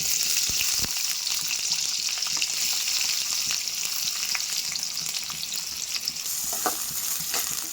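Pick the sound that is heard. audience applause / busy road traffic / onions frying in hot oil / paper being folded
onions frying in hot oil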